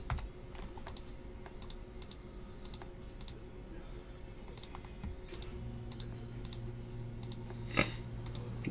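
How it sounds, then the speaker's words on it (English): Computer keyboard typing, quick irregular bursts of key clicks at close range over a quiet room hum, with a louder clack near the end and no speech. "you hear those keys? That is me typing up your code."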